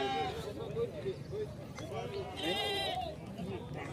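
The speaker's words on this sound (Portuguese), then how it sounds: "Deixa eu chamar aqui o borrego e a cabrinha ali." Lambs and young goats bleat among the crowd at a goat, sheep and pig market in Tabira, Pernambuco, with short wavering calls mixed under near continuous talking voices.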